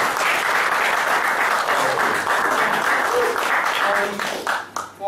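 An audience at a culinary basics graduation ceremony claps in a dense, sustained round of applause that thins out and stops near the end.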